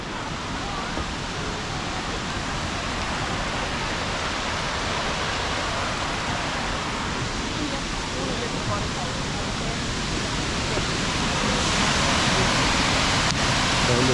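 Waterfall on the Bushkill trails in Pennsylvania, heard from directly above the falls: a steady, broad rushing roar of water that holds constant throughout and swells slightly toward the end, with no talking.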